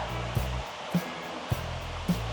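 Water at the Taf Fechan gorge waterfall in South Wales roars as a constant broad rush, with four evenly spaced soft thuds nearby over the steady noise.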